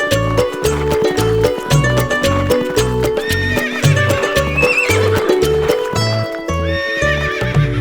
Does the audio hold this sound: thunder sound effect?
no